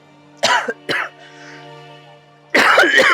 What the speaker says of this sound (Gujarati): ઉધરસ